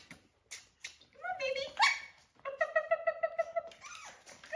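A puppy gives short, high yelps and bursts of barking, close by, mixed with a person's encouraging voice.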